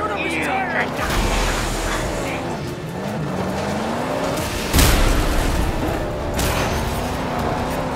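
Vehicle engines roar in the Mad Max video game as turret gunfire and an explosion boom out, with a sharp burst near the middle. Voices talk over the action throughout.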